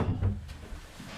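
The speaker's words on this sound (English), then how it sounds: "Close my door." An indoor door is pushed shut with a soft, brief thud and a light knock, faint and close by, followed by quiet room tone.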